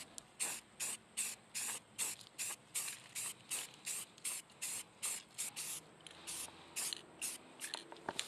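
Steel framing pieces for a dome restoration being spray painted, with short rhythmic hissing bursts from a spray can, about a dozen evenly spaced blasts up close, each with a faint rattling click, and no voices.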